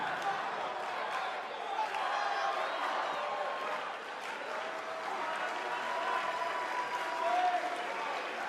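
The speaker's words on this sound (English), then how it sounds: "The live crowd loved it." A WWE 2K19 arena crowd roars and applauds continuously, a dense steady wall of cheering with faint voices mixed into the noise.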